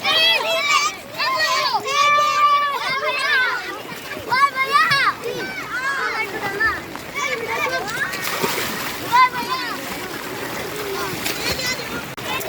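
People bathing in the old Gendaria pond during rain splash and slosh the water in irregular bursts, mostly under lively chatter and children's voices.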